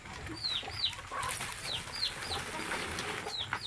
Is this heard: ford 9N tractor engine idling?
no